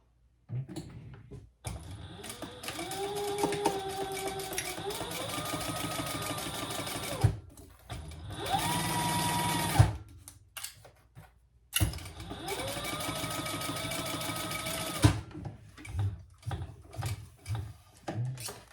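A Fabricator sewing machine topstitches a vinyl crossbody bag, running in several close, sustained bursts separated by short pauses, then finishing with a series of quick start-stop stitches.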